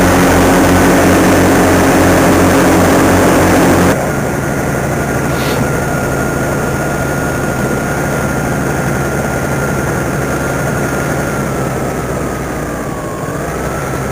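A paramotor engine and propeller in flight over Sardinia: a loud, continuous droning buzz that shifts in tone after a few seconds and holds steady with a slight pitch dip, with no voices.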